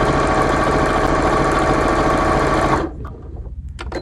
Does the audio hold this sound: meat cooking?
no